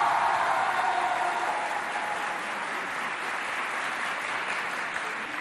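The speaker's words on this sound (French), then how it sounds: "ils applaudissent bien fort" Students of the Abdoulaye Moussa school complex applauding at a school quiz contest, a dense steady wash of clapping from a crowd, fairly distant, gradually easing off.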